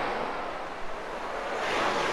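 Surf rolling onto an Atlantic Ocean beach makes a continuous broad roar of breaking waves mixed with wind buffeting the microphone, loud and unbroken throughout.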